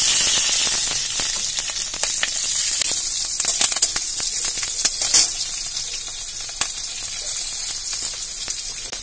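Green chilies and cumin seeds sizzle loudly in hot oil, a dense, continuous crackle with sharp spitting pops scattered throughout and no voices.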